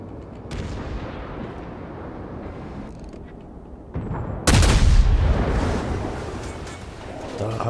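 Naval guns boom during a World of Warships battle, with a heavy muffled blast midway, rumbling shell fire around it and spoken commentary under the action.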